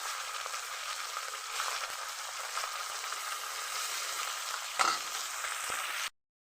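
Fish (ফ্যাশা) being pan-fried in oil: a steady close sizzle throughout with a brief louder crackle near the end as the fish is turned, then it cuts off.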